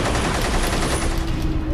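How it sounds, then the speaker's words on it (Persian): A Kalashnikov fires a rapid burst of automatic gunfire at close range during a roadside attack on a car, dense overlapping shots continuing throughout. "صدای رگبار"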